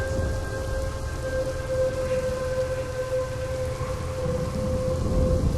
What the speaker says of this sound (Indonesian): Suara rintik hujan dan gemuruh di luar membuat suasana terasa lebih mencekam dari biasanya.